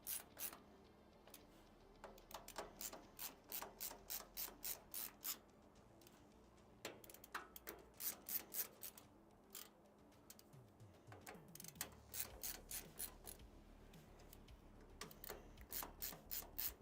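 Hand ratchet tightening bolts while fitting a PC graphics card into a Lian Li Lancool III case, rapid faint clicking runs repeating in bursts across a quiet room, no talking.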